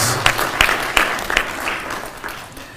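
A crowd gives a round of applause for Honorable Tongoyo at a National Police Service roundtable in Kenya, loud and steady with a few sharper claps, slowly tapering off.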